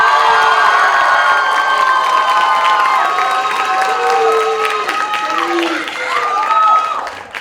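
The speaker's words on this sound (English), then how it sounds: "Please give a round of applause for Gabby and Ayana" A university Latino pageant crowd cheers and applauds contestants on stage, with loud whoops and high-pitched shouts over steady clapping, sustained and close throughout.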